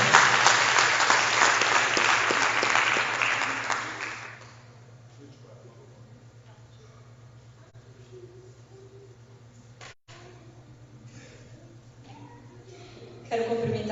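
A church congregation claps loudly and densely for about four seconds, then the applause stops abruptly, leaving a quiet room with a low steady hum and faint scattered sounds before a brief rise at the end.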